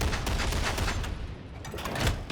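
Ripper gun firing in Warhammer 40K: Darktide, a loud continuous burst of rapid shots running the whole time with a slight dip midway.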